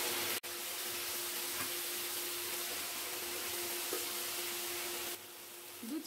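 Grated tomato hits a hot pan and sizzles in a steady, dense hiss that runs on evenly, starting with a sharp onset and then easing slightly near the end.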